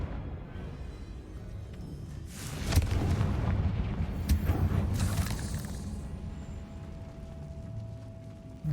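Confringo blasting-spell explosions in Hogwarts Legacy on PS5, heard as rolling, rumbling booms that swell around the middle of the clip and trail into a steady low roar, with no talking.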